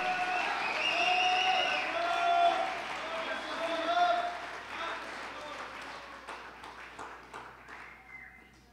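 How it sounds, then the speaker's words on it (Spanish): A church congregation breaks into a loud ovation during a sermon, broad crowd applause with cheering voices that swells early and then slowly tapers off. "Dele gracias al Señor con una fuerte ovación."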